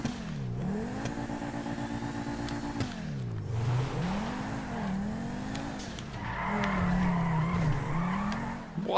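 A tuned Obey RF custom car in GTA 5 revs and skids, its engine note rising and falling in repeated swoops while tires squeal loudly, closer and harsher toward the end; no talk.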